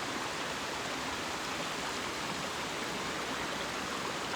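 A river near Aberfoyle in the Loch Lomond & Trossachs National Park rushes steadily, a dense, even wash of flowing water with no voices over it.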